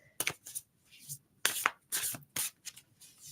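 Tarot cards are shuffled by hand in several quick, crisp riffling bursts separated by short pauses, close by.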